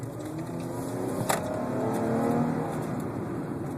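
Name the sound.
2012 Dodge Charger accelerating in traffic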